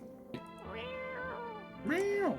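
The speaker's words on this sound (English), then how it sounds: "Okay, we're petting the cat." A cat in a video game meows twice, a short mew followed by a longer, louder drawn-out meow, clear and close with faint background tones.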